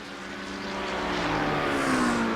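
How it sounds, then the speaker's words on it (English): A McLaren race car engine in a racing game climbs in pitch as it accelerates, a rising whine building steadily over a couple of seconds. "Will the McLaren have enough power to speed up towards that Ferrari?"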